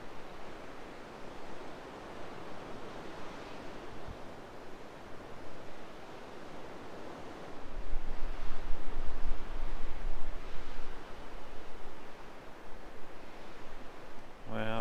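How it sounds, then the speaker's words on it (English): Ocean surf roars and crashes against big rocks on the Oregon coast, a steady broad wash that swells louder midway through, heard from a paved switchback walking path. "Hear the roar of the water. Goodness. Crashing on them big old rocks."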